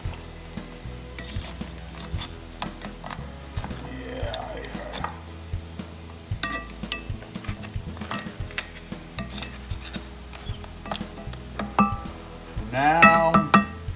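Seafood spaghetti sauce with crab claws is stirred in a pan, giving a steady soft sizzle with rubbing and scraping strokes. Light clinks sound throughout, and a louder scrape swells near the end.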